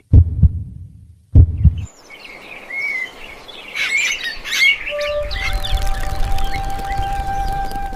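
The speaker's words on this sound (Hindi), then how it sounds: "आदित्य को अपने कानों में केवल अपनी धड़कनों की आवाज ही सुनाई दे रही थी।" Two deep heartbeat thumps sound close and heavy at the start of a Hindi horror story scene, then give way to a soft background of chirping birds and sustained tones.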